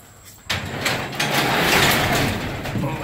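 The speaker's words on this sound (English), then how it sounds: "This garage door is in good shape. Swings real nice." A newer residential garage door rolls closed with a loud, continuous rattling and rumbling sweep, starting abruptly and carrying on steadily for a few seconds, close by with no talking.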